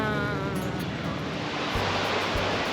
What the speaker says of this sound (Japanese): 長く続く海岸線。